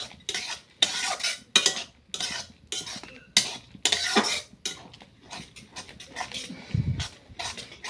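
A utensil stirs nali greens cooked with salt, chili and garlic paste in a pot, giving repeated scraping and clinking strokes, moderately close, with a brief cough and little talk.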